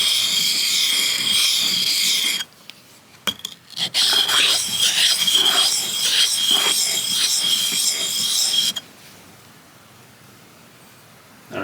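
Chisel bevel rubbed in a figure-of-eight on an oiled sharpening stone, a steady close rasping scrape lasting several seconds with short pauses between passes.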